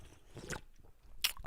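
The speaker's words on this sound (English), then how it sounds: "You don't want to hear the slurps?" Close, quiet chewing and crunching with small wet slurping bursts comes from someone eating, irregular mouth sounds picked up close to the microphone, with no talking.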